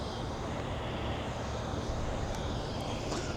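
A drone sits on the ground after landing with its motors still running, giving a steady, faint whirring drone with a few small ticks, no one speaking over it.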